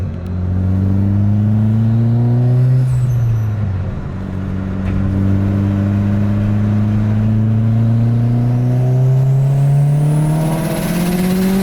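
Mitsubishi Evo 9 engine pulling hard through third gear, a loud close rising rev that climbs, dips briefly at a shift and keeps climbing, with heavy exhaust drone throughout.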